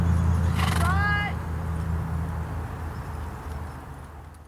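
Horse trotting with a short stride and high knee action in an evaluation class, quick hoofbeats with a clear whinny near the start, then steady footfalls fading slightly, with a voice talking over part of it.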